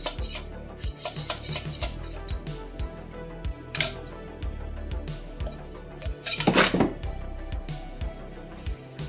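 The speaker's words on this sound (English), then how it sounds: "This just helps me get my putty knife underneath the model to scrape it off of the bed." A putty knife scrapes a resin 3D-printed model off a printer bed, giving repeated short scraping strokes with clinking metallic knocks and a louder scrape near the end, close and without talk.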